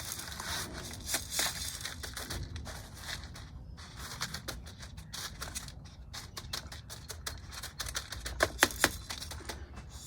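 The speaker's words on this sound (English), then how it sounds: "first, I'll trim up the branches." Small shears trimming branches on Japanese katsura trees: a run of crisp snips and clicks, close and irregular, with rustling twigs between cuts and a quicker cluster of snips near the end.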